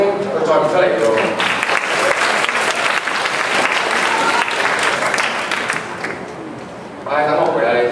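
Audience applause at a school entertainment event, sustained dense clapping throughout with crowd noise and voices mixed in, dipping briefly near the end before swelling again.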